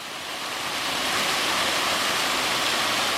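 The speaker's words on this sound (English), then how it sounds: "And then the waterfall continues up a bit higher." Steady, loud rush of a waterfall, a dense continuous roar of falling water with no pauses or other sounds.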